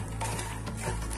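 Makhana (fox nuts) roast in ghee in a pan over medium flame, with soft scraping and stirring over a faint sizzle, brief and quiet with no talking.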